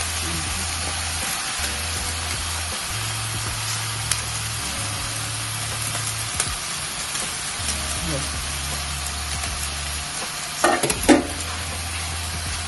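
Butter chicken being stirred in a pan at home, a steady sizzle and frying hiss running under soft spoon scrapes, with a few louder clinks near the end.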